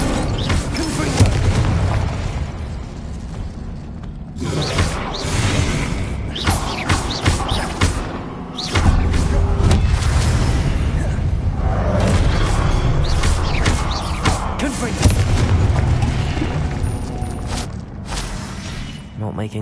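Explosive Confringo spell blasts from Hogwarts Legacy gameplay: repeated heavy booming impacts with thuds, crackling debris and shattering over a dense, loud game soundscape, the blasts following one another with short gaps throughout.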